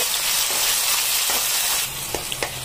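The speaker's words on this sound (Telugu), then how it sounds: "ఇప్పుడు ఇందులోకి ముందుగా కట్ చేసుకున్న టొమాటో, దీన్ని కూడా వేసి బాగా అంటే సాఫ్ట్గా కుక్ అయ్యే వరకు ఫ్రై చేసుకుంటే సరిపోతుంది" Chopped tomatoes frying in a hot pan hiss and sizzle steadily, close and continuous, with a few soft clicks of stirring near the end.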